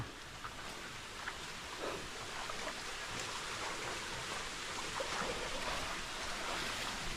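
Steady roaring rush of an underground river in a forest cave fills the whole stretch, a dense broadband wash with no voices, like a strong river flowing through an enclosed space.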